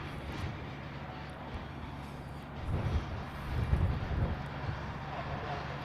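Qantas airliner on approach to land at Honolulu airport, a distant rumbling jet roar that swells gradually and peaks toward the end, over wind and outdoor ambience with no talk.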